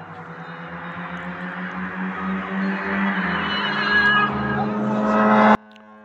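Peugeot and Xantia cars race side by side at a drag race in Ardabil, engines revving and rising steadily in pitch for about five seconds before the sound cuts off abruptly.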